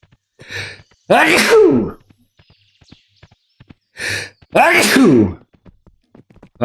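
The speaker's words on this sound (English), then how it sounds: "I got a sneeze coming on." Two sneezes, each a breathy inhale followed by a loud forceful burst, close and clear with a brief quiet gap between them.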